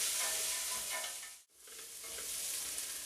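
Onions, carrots and celery cook in a soup pot with a broad, steady sizzle that dips briefly to near silence midway before resuming at full strength.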